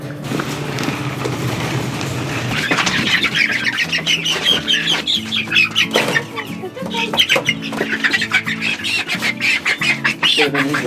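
Young laying hens and turkeys in a pasture coop cluck and squawk continuously, the birds close by with overlapping calls and sharp squawks throughout.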